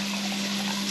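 Cooking wine or sherry being poured into a cooking pot while making Chinese braised beef cheeks, a steady soft liquid trickle lasting about a second with a constant low hum beneath.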